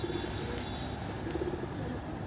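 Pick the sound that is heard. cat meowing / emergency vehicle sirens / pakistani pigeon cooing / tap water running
pakistani pigeon cooing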